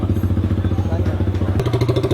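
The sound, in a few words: motorcycle engine through cafe racer aftermarket silencer, sound test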